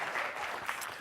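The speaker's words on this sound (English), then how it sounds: "Round of applause." Brief audience applause during a conference keynote on digital learning, a soft, diffuse patter of clapping from the room, heard faintly for about a second.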